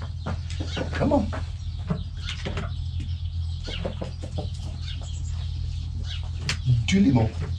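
Hens on a farm in southwest France cluck and call close by on a chilly morning, bursts of clucking over a low steady hum with occasional louder squawks near the end.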